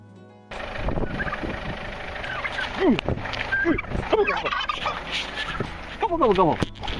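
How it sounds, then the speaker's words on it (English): An aggressive turkey on North Uist gobbles repeatedly near a bed and breakfast, loud rattling calls in several bursts over steady outdoor background, with a voice briefly heard. "But we were attacked by this turkey going to a new bed and breakfast."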